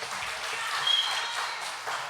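An audience claps after a young performer finishes a song on a recovery-themed show, producing a steady, moderately quiet wash of applause with no talking.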